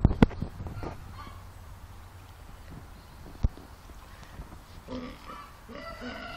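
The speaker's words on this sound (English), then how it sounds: "She's telling off the first hatch from the other mommy." A mother Muscovy duck gives soft, low scolding calls to her ducklings, mostly quiet with a few sharp clicks and bursts of faint chirping, close by and outdoors.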